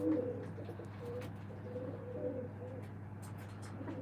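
Pigeons coo softly and steadily while feeding on grain, with a low constant hum beneath and occasional faint chirps.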